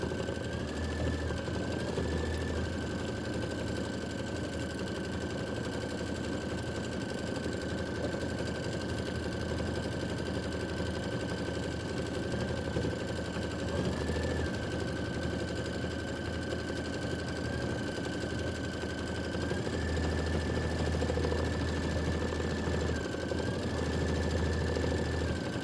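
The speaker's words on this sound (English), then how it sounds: "that's why it's stitching out the center first" A computerized embroidery machine stitches out the center of a Kimberbell Wallflower pieced quilt block, giving a steady, continuous motorized hum with a constant whine, alone and with no talk, fairly close throughout.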